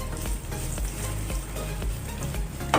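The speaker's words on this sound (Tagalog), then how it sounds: "So ngayon, nagpainit na ako ng oil sa pan. So ilalagay ko na itong" Onion dropped into hot oil in a pan for beef caldereta fries with a close, crackling sizzle, with scattered spatters and stirring knocks over a steady hiss.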